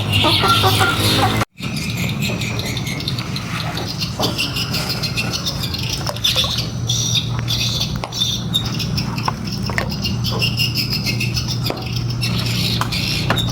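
Chickens cluck steadily over busy pattering and scratching noises, a dense farmyard din that briefly cuts out near the start.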